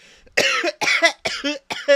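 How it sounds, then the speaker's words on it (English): A series of four harsh coughs in quick succession, close and fairly loud, each a short raspy burst with brief pauses between. "Sorry about the cough."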